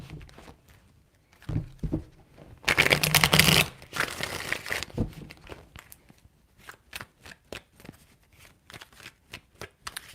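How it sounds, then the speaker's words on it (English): Tarot cards being shuffled by hand, a burst of dense riffling followed by a run of soft, evenly spaced taps and slides, fairly quiet and close with no talking. "Three shuffles."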